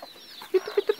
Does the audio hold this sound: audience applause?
no